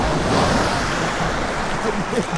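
North Sea waves breaking and washing on a Scottish shore, close and continuous with wind buffeting the microphone and faint voices nearby.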